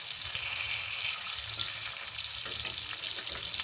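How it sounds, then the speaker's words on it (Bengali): Rui fish fries in a pan while being flipped, a constant bright sizzle with crackles and a few soft scraping knocks from the turning, moderately loud and without talk. "মাছের 1 পিঠ আমার ভাজা হয়ে গেছে। এবার আমি মাছটা উল্টো পিঠটা উল্টে দিচ্ছি।"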